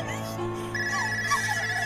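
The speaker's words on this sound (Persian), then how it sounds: "این تلفن کیست؟" A telephone rings with a short electronic ringtone, a bright warbling tone repeating over a steady low hum and faint room noise.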